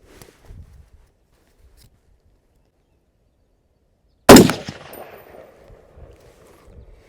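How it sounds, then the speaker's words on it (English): A single sharp rifle shot from a Ruger SFAR fitted with an adjustable RIFLESPEED gas block cracks outdoors after a quiet pause, its echo trailing off, followed by faint handling noises. "Let's take some shots down range."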